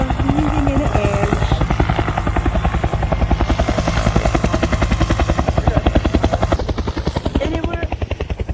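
Helicopter at the Dayton airshow in cold rain, a loud, close, steady rotor thump with rapid rhythmic blade chop throughout, engine whine layered underneath.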